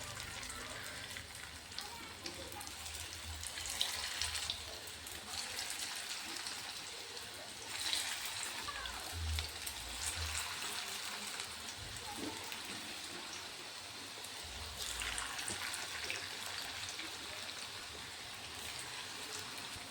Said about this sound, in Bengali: এইভাবে আমি সব বড়াগুলো এখন দিয়ে দেবো তেলের মধ্যে